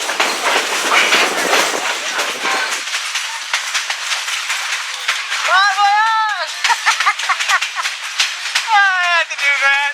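Riding an excursion train on the Great Smoky Mountains Railroad: steady wheel clatter and rail rumble close by, with brief squeals and hiss, and loud voices over the noise.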